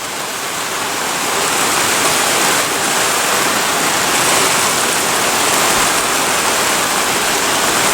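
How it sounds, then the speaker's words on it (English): Dense, steady hiss of rain pouring down, loud and even throughout with no voices, like a heavy shower close by. "That rain sounds beautiful"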